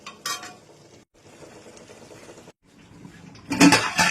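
Potatoes simmer in chicken biryani gravy in a kadai, giving a faint, quiet bubbling and sizzle, punctuated by a short clatter at the start and a louder burst of stirring or utensil noise near the end.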